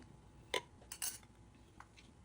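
An easy-open can of Spanish style sardines is pulled open with a few faint metallic clicks and scrapes, spaced irregularly in a quiet room.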